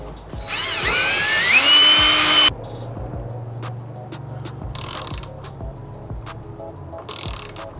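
A power drill whines loudly for about two seconds, pitch rising, then cuts off, followed by quieter mechanical clicks and rattling, during maintenance work on a Ford Raptor or Ram Power Wagon truck.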